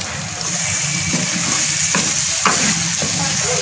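Onion and cabbage stir-fry loudly in a hot pan for vegetable fried rice, a dense continuous sizzle with scraping and stirring clatter close up.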